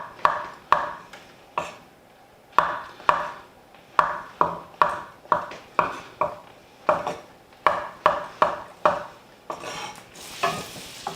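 A kitchen knife makes quick, repeated slices on a cutting board while bacon-wrapped stuffed chicken breast is being prepared. The crisp knocks are close and come in a brisk, fairly regular rhythm over a faint pan sizzle, with no talking.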